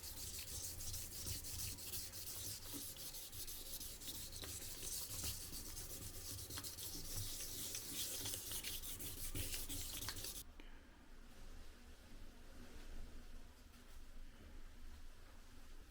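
Wet sanding of a 3D-printed carbon filler cap adapter plate, a steady close rubbing and scraping texture that runs continuously, with a noticeable change in tone partway through as the stroke softens.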